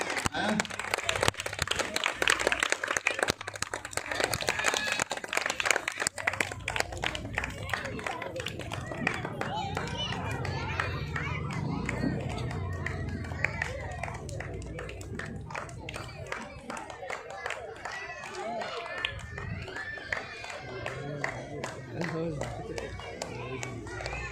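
Loud, sustained applause from a crowd at a Pongal children's games festival, dense clapping that starts strongly and continues throughout while people talk and cheer over it.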